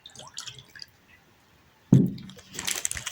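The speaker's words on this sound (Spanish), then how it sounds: "En el recipiente ponemos un poco de agua." Water poured into a small container for a kitchen science experiment, heard as a sudden splashing gush that turns into a short, trickling, hissing pour in near, quiet surroundings.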